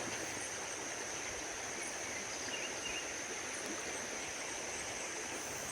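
Steady rushing water of a flowing river, a constant broad hiss without pause, with no voices.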